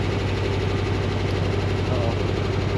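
A 1972 George Barris C Cab T Buggy engine idles steadily with a loud, continuous low rumble and even pulsing throb, close by and unbroken throughout.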